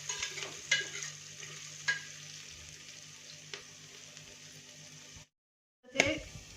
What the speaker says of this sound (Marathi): थोडंसं याला गुलाबी रंगावर परतून घ्यायचं.